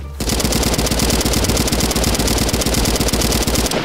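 Loud, rapid automatic gunfire from the video game Bad Business, a continuous burst of closely spaced shots that runs almost unbroken for several seconds.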